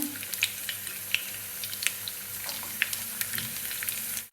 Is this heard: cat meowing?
no